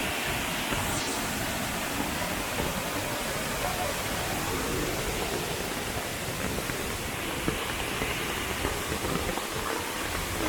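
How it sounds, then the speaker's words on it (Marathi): The Savdav waterfall in the Konkan after heavy rain, its red, swollen water roaring in a steady, dense wash that fills the whole scene, close and unbroken. "जोरदार पावसानंतरचा अप्रतिम असं धबधबा बघतोय"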